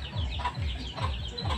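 Chickens cluck in a few soft, repeated bursts in a backyard flock, some of them sick with coryza, with a steady low background hum underneath and no voices.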